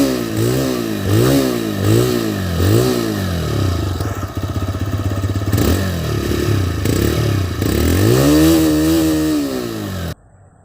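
A 2022 TVS Raider 125cc BS6 motorcycle engine runs close by, repeatedly revving up and dropping back, a loud throbbing idle with rising and falling pitch sweeps before cutting off abruptly.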